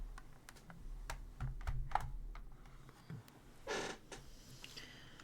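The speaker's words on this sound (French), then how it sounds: "Je vais reculer mon clavier." Computer keyboard shoved back across a desk, a scattering of light clicks and taps followed by a brief scraping slide, faint and close in a quiet room.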